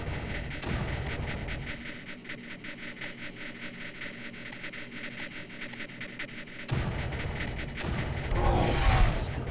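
Continuous bombing in Creeper World thumps and crackles as a rapid, steady stream of small muffled blasts, rising to a louder, denser barrage near the end.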